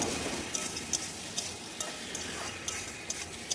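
Mango chutney with salt and turmeric is stirred in a pan, producing a soft steady sizzle and regular light spoon clicks against the metal, close but fairly quiet, with no speech.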